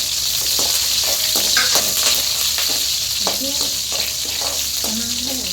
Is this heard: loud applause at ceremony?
no